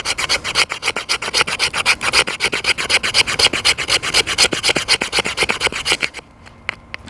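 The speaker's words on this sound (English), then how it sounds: "let's just see how well she scrapes the fat wood" A Gerber Terracraft fixed blade knife scraping a stick of fat wood, with fast, steady rasping strokes repeated dozens of times at close range and loud. The strokes then stop abruptly, followed by a few faint scattered scrapes.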